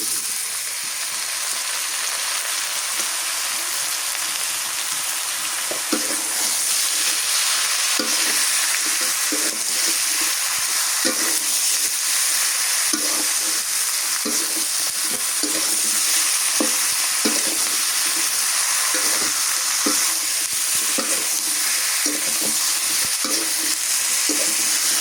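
Chopped bottle gourd fries in a hot pan, a loud continuous hiss of sizzling with a steady run of soft rhythmic scraping strokes as it is stirred, no voices.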